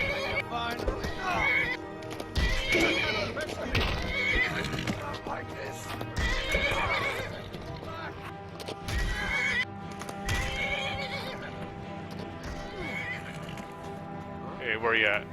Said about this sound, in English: Fighting a horse.